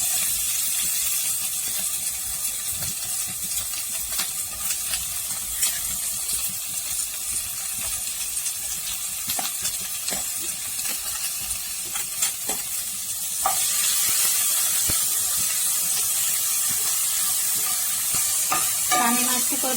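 Onions stir-fried in a pan after green chilies for egg bhurji, sounding as a continuous close sizzle with frequent spatula scrapes and clinks, the hiss growing louder and brighter toward the end, with no talking.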